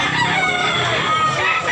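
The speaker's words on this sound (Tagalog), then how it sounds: "Daming manok talaga dol. Mga magandang manok." Roosters crow and hens cluck in a crowded chicken market at Tabunok, Talisay, Cebu, several birds calling at once in a dense, loud, close chorus.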